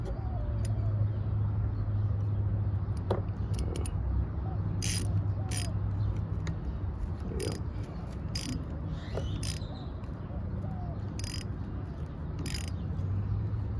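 Bolts on the carburetor rails of a Honda CBR 600 F2 being tightened, giving a run of quick ratcheting clicks and sharp metallic ticks over steady background hiss.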